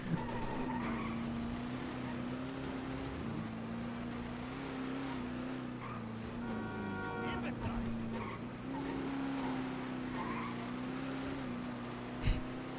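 A car in GTA 5 drives fast with a steady engine drone and brief tire skidding, a sharp thump near the end, under faint talk.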